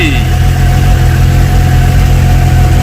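A Suzuki GSX-S750 motorcycle engine has just fired up and settles into a steady, loud idle, a continuous low throbbing hum with no speech over it.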